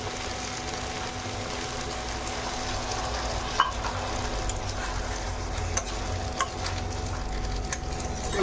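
Prawns are stirred in a pan for Bengali lau chingri. A soft, steady sizzle runs throughout, with a few faint scraping knocks and no voices.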